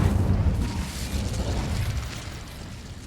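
A fire spell cast in the Hogwarts Legacy video game gives a roaring burst that settles into a steady, low rumbling whoosh of flames, with a small pop at the very end.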